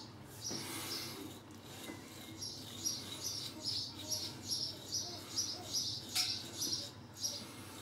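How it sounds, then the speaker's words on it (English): Seagulls call in a steady repeated series of short high cries on a Tenerife shore, moderately close over a low background rumble, with no talk. "Oh, the sound of seagulls, how I've missed them."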